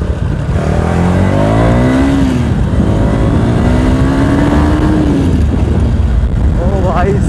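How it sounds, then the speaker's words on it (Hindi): A KTM Duke 250 motorcycle with its exhaust dB killer removed roars and revs close by with a harsh, unmuffled rumble, pitch rising and falling, while a voice talks over it. "बाइक से ना डीबी किलर निकाल दिया, और भाई इतनी इतनी डेंजर यार साउंड आ रही है ना इसकी"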